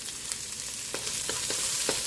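Garlic sizzles in a hot pan, a soft, constant frying hiss broken by a few sharp pops and crackles that come close together.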